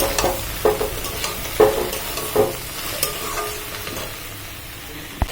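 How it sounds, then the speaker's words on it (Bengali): Vegetables for khichuri fry with salt and turmeric, with a steady sizzle broken by a handful of sharp, rhythmic scrapes as they are stirred in the pan. "এখন আমি সবজিগুলোকে ভেজে নেব নুন হলুদ দিয়ে ভালো করে"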